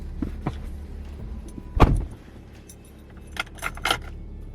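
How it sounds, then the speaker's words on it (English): Keys jangle in a few brief metallic bursts, with one louder clatter midway as a door is shut and locked, close to the microphone with no talking. "Alright, the door is closed."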